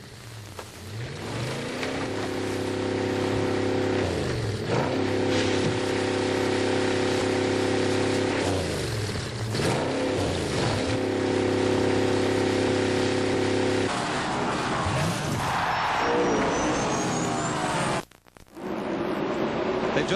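NASCAR race cars roar past on a green-flag restart at the 2001 Harrah's 500, with loud, sustained engine drones rising and falling in pitch as they sweep by, then a brief drop and another surge.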